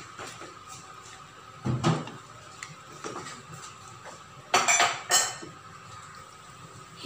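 A spoon stirs creamy beef and mushrooms with Nestle cream in a pan, giving a few quiet, scattered clinks and scrapes against the pan over soft background noise.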